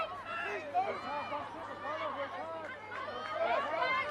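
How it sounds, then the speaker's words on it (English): Spectators at a women's rugby match at Burleigh keep up a low, continuous chatter, a soft babble of many voices that swells slightly toward the end and stays fairly distant throughout. "See the crowd getting a bit lively here at Burleigh."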